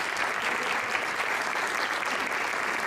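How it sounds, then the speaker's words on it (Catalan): Audience at a Compromís per Novelda award ceremony applauding, steady dense clapping filling the hall throughout without a break. "acompanyem en un aplaudiment fins ahí"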